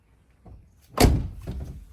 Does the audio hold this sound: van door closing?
yes